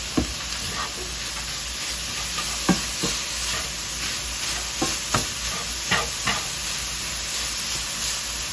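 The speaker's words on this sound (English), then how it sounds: "I'm going to throw in 2 tablespoons of garlic. And then I'm going to mix that in and just cook it for a minute." Two tablespoons of garlic sizzling in a hot pan on a stove, a steady frying hiss punctuated by several soft scrapes and taps of a stirring utensil.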